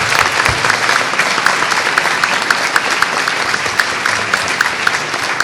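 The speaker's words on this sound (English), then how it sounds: "Let's give another big round of applause to all of our partners that work throughout the community." Dense, loud applause from a large audience at a Board of Education meeting, a steady wash of many hands clapping throughout with no break.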